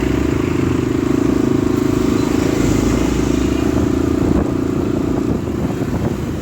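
A motorcycle engine runs steadily and loudly up close, a constant throbbing drone with slight rattling as the bike rides off, unbroken for several seconds.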